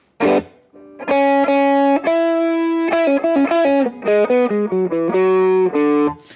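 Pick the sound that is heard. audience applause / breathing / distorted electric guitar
distorted electric guitar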